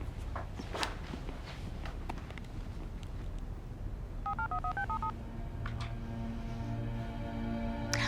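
A telephone being dialed, a quick run of distinct keypad tones near the middle, heard amid footsteps and shuffling, with a long steady tone following.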